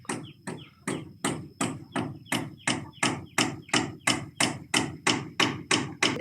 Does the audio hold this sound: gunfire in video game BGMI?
no